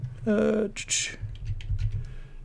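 Fingers tap out a wallet recovery phrase on an iPad screen, a quick run of soft clicks and taps set against steady low room hum, with a voice speaking briefly near the start.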